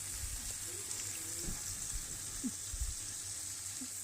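Spice paste sizzles and fries in a pan for phulurir jhol, a steady close hiss with a few soft stirring scrapes.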